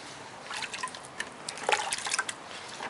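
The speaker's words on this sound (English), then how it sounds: "Sprinkle a little water on it," Water is sprinkled over a soapy floor mat, giving irregular splashy patters and drips that cluster and thicken toward the middle, close and moderately loud with no talking.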